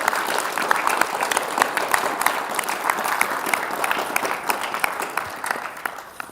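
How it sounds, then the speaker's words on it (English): Audience clapping at a junior rugby club prize giving, a steady, dense round of applause from a room full of people that thins slightly toward the end. "put your hands together and give them all a round of applause"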